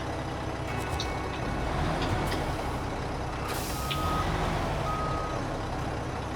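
A truck backing up near old mine workings, its reversing alarm beeping in a regular pattern over a steady engine rumble, with a sharp air-brake hiss releasing partway through.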